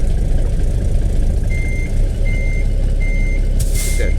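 A truck in American Truck Simulator backs a 53-foot custom reefer trailer, its loud engine rumbling steadily while evenly spaced reversing beeps sound and a short air-brake hiss comes near the end.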